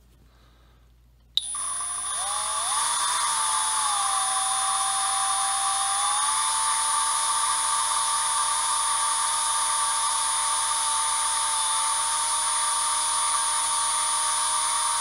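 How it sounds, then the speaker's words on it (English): Valves are lapped on GT40 iron cylinder heads with a spinning tool, starting after a sharp click and settling into a steady, loud, high-pitched whine that continues unbroken to the end. "do this valve so you can kind of hear the grinding sound and then the quiet sound"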